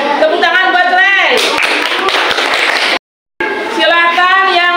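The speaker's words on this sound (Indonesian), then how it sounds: "tepuk tangan buat Rai." Children in a classroom during a lesson on respecting differences burst into brief, close applause. The dense clapping rises between spoken passages from a teacher and cuts off sharply.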